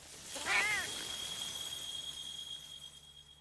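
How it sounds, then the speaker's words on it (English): A cat in a game trailer gives one clear meow near the start, followed by a thin sustained tone and quiet background. "Cats."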